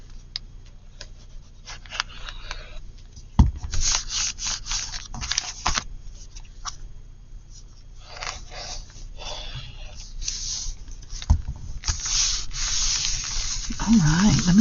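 Scissors cut a piece of brown paper bag for a handmade journal, giving irregular crisp rustling and scraping snips with a few sharp clicks, close by and without talk.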